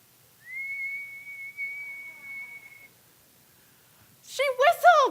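A single sustained, clear whistled note holds for a couple of seconds, then a short burst of talking follows after a pause.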